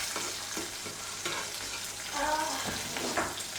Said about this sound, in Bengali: মানে ডিম পোচ হচ্ছে